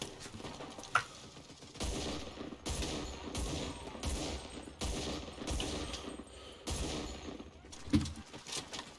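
Machine gun bursts rattle in the video game Enlisted, several loud, sustained volleys spaced a second or so apart, with a couple of sharp single shots between them.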